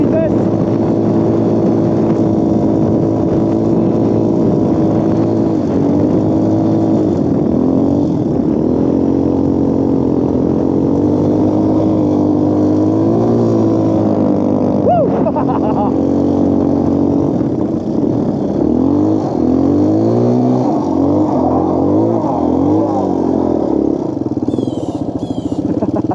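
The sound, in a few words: quad ATV engine revving on a snowy road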